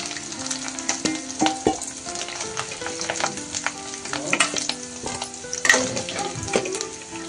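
Potatoes fry in hot oil in a pan for a hotel-style aloo dum curry, crackling and sizzling steadily with occasional stirring scrapes, close and loud with no voices.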